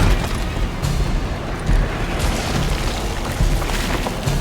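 Heavy booming shotgun blasts in the game Alone in the Dark (2024) during a final boss fight, several loud blasts in quick succession over a dense, continuous rumble of action.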